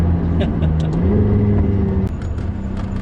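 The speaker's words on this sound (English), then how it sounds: "It just keeps going, it's relentless until you hit the rev limiter and then you have to change up again." A McLaren 675LT engine accelerates hard toward the rev limiter, its droning note climbing steadily before dropping abruptly near the end, heard loud from inside the car.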